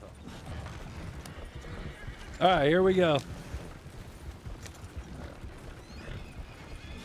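A horse in Red Dead Redemption 2 clops along steadily, then lets out one loud, clear whinny midway, with players talking over the hoofbeats.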